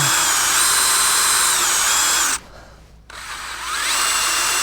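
A power drill with a small bit drills into a 1975 Ford 550 backhoe, whining steadily at high speed, briefly cutting out for under a second before spinning back up, close and loud.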